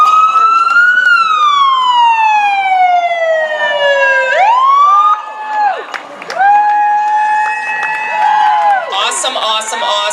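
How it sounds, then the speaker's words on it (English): A loud siren wails close by at a race finish line on Market Street, sweeping down and then holding, while a crowd cheers and shouts underneath. "when you hear the siren that we've got our winner coming through"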